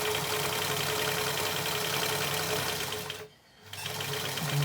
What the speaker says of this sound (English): I'm going to back stitch on it just to secure it.